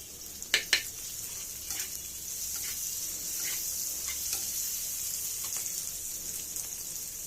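Dried lotte fish bhuna sizzling and frying in a pan as it is stirred with salt, green chillies and turmeric, a steady hiss with a few sharp utensil clinks near the start.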